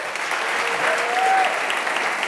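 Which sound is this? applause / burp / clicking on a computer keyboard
applause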